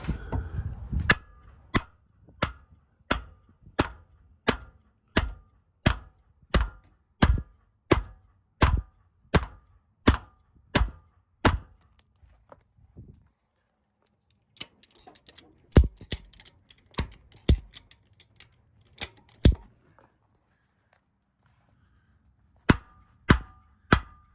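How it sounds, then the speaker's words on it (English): Sharp metallic hammer blows on a metal hitch ring out one by one at a steady pace, a pause midway, then more strikes resume, fairly close with no talking. "this morning I'm putting tension on it with the strap and then hitting it with the hammer"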